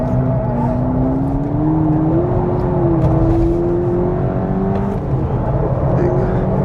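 A 2022 VW Polo GTI engine pulls steadily in second gear, its rising drone climbing smoothly and continuously under cabin and road noise, with speech in the car.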